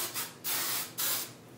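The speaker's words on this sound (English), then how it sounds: "I'm just gonna give light sprays" Hairspray sprayed onto hair while styling spiral waves: three short, soft hissing bursts up close, the last two longer and steady, with brief pauses between them and no talk.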